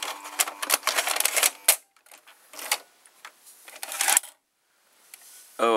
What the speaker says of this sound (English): Loading motor is forcing.